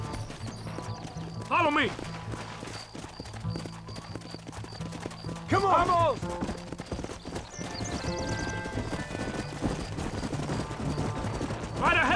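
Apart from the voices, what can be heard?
horse hooves galloping, from video game Red Dead Redemption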